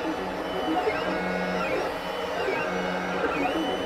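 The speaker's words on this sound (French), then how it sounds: "En fait, c'est pas l'imprimante qui est bruyante, c'est l'alimentation." A Lulzbot TAZ 5 3D printer running a fast print, its noisy power supply whirring: a constant, fairly loud fan drone with stepper-motor whines rising and falling in repeating sweeps.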